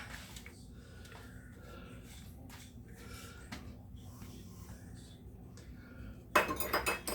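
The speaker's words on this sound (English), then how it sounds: "And gonna stir it up there. Make kind of a sticky dough" A spoon works through sticky cheddar biscuit dough in a bowl, soft repeated scraping and dull knocks against the bowl, close and quiet, ending in a brighter clattering burst.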